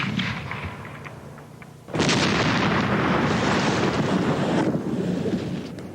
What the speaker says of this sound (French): l'explosion accidentelle d'une caisse de feu d'artifice dans le coffre d'une voiture